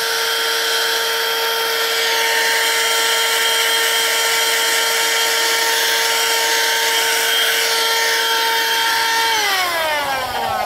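A Tsumbay handheld car vacuum cleaner's motor whines steadily at close range while cleaning a car seat, then its pitch slides down as it powers off near the end.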